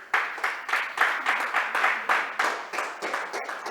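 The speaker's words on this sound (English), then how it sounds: "So you can give him another round of applause." Audience applause at a technology conference, a steady burst of clapping from a hall crowd that pulses in even waves throughout, fairly close and alone with no talking.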